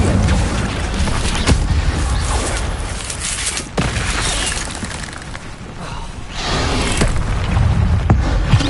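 Incendio fire spell cast in the Hogwarts Legacy video game, a dense roaring burst of flame and crackling impacts with several sharp booming hits scattered across a loud, continuous fiery wash.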